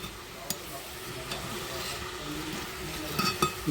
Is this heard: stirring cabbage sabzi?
yes